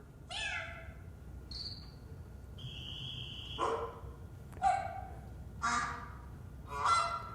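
Bird calls from the Scratch sound library: a series of short, separate chirps and squawks, several clear and bright, with brief pauses between them and a low hum underneath.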